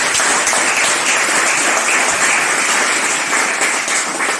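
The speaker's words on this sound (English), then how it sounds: "Usain Bolt, give me a big round of applause" Steady, dense applause from a large crowd, loud and sustained for several seconds with no break.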